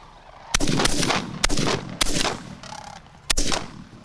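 Four sharp gunshots ring out at uneven intervals during a turkey hunt outdoors, each a loud broadband crack followed by a short decaying tail, with faint bird calls between them.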